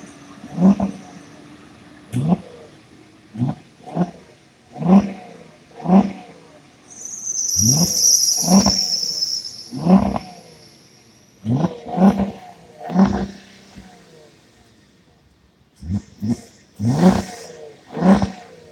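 A VW car engine with a suspected misfire, revved repeatedly in short uneven bursts with rough, stumbling pulses between them and a high whine partway through, close and loud.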